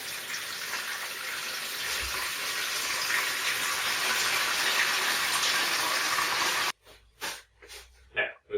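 Hot water pours steadily into a plastic brewing fermenter while an English bitter beer kit is being made, a continuous close hiss of filling that stops abruptly into a few soft knocks and handling sounds.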